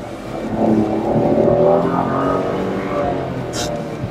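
Inside the cabin of a 2021 Renault Triber, the engine revs up as the throttle is pressed, making a steady, fairly loud drone that rises in pitch and fills the interior.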